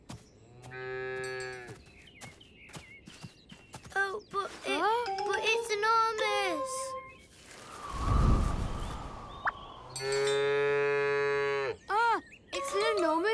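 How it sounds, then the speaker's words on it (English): A large cartoon cow lets out a long, loud, harmonic moo in a children's animated series, with character voices talking before and after it. "It's an enormous cow"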